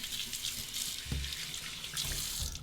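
Tap water runs into a sink to rinse a vintage 1959 Gillette Fatboy safety razor, a steady close splashing stream with a brief knock partway through, no talking.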